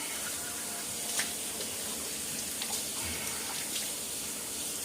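Water runs steadily from a tap while a shaving brush and bowl are rinsed after lathering, a continuous close hiss with a few soft splashes.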